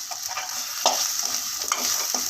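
Steady sizzling of coconut sautéing in a pan for an egg curry masala, with repeated scraping and stirring strokes, close and continuous, no voices.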